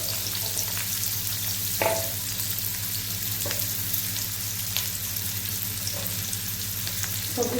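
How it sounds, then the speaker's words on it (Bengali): Chopped onions sizzle steadily in hot oil with cardamom and a cinnamon stick for an egg curry, a continuous close frying hiss broken by a few brief stirring scrapes. "ঠিক এই সময় আমি কেটে রাখা পেঁয়াজগুলো দিয়ে দেবো।"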